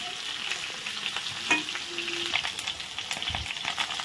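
Sliced ridge gourd fries in hot oil tempered with mustard seeds and green chilli, a constant close sizzle with quick stirring scrapes and a few sharp crackles, and no one speaking.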